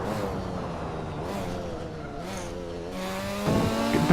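A Porsche race car engine in the Hot Wheels Universe Zero video game holds a loud, steady, buzzing drone, shifting pitch near the end as it revs back up, with no one talking.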